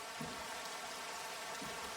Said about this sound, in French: Il se met à pleuvoir parce que je l'ai tapé.